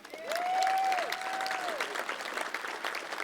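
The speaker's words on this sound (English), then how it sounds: "I'd like to take now one more round of applause for our speakers." Audience applause after speakers at a ribbon-cutting ceremony at the Chase Center arena: steady, dense clapping from a crowd that holds for about three seconds, with a brief tonal whistle or cheer near the start.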